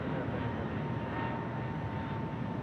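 A Jetstar airliner taking off from runway 34 left at Sydney Airport at night, a broad, steady roar of jet engines that fills the whole stretch at moderate distance.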